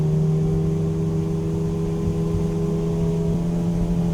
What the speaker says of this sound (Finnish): Kokeillaan, mitä vene kulkee näin syksyllä 1 hengen kuormalla.